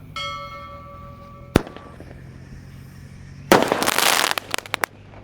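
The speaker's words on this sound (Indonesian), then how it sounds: "Lanjut yang akan kita nyalakan, di sini ada Golden Blitz. Sudah menyala bosku." A Golden Blitz firework goes off at night: a sharp single bang, then after a pause a loud, dense burst of crackling and popping lasting about a second before thinning into a few scattered pops.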